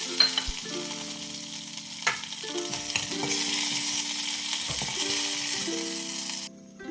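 Cut curry leaves crackling in hot oil with mustard seeds, cumin and urad dal during a tempering, a loud continuous sizzle with spatula stirring that cuts off abruptly near the end.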